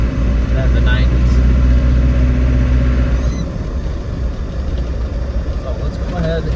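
A 1995 Land Rover Defender 110 with the 300Tdi diesel engine cruises along with a loud, steady low rumble that eases slightly partway through, while a person talks over it.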